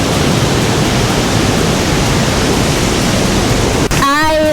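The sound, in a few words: waterfall on a West Virginia hiking trail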